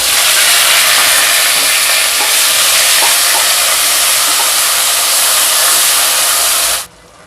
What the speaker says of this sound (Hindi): तेल गरम हो गया है। सबसे पहले ज़ीरा डालेंगे, 2-3 तेज़ पत्ते, बड़ी इलायची, प्याज और हरी मिर्च की प्यूरी में डाल देते हैं।